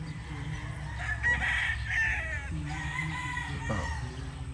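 Gamefowl roosters, Boston Roundhead among them, crow repeatedly at a farm, with clucking in between; the calls are close and fairly loud, overlapping across the clip with no talk.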